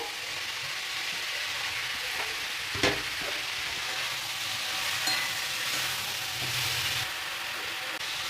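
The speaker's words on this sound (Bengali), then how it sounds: "সবজিটা একটু ভেজে নেব সবজিটা পাঁচ মিনিট খুব ভালোভাবে নাড়াচাড়া করার পরে" Vegetables for a Bengali-style cabbage fry sizzle steadily in a pan, with a few sharp scraping knocks of a spatula as they are stirred; close, continuous frying hiss with no talk.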